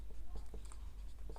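Chalk or marker writing on a board, a few short scratchy strokes close by over a low steady background hum.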